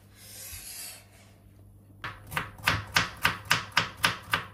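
A utensil scrapes carrots around a pan in a steady rhythm, about three strokes a second, with each pass a short, close, woody rasp and no talk.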